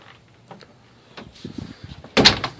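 The privacy door inside a 2004 National RV Tropical T370 diesel pusher motorhome is pulled shut, ending in one sharp, loud close after soft shuffling and handling sounds.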